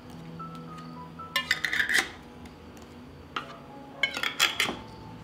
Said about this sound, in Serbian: I na kraju tegle zatvaram sa čistim i novim poklopcima.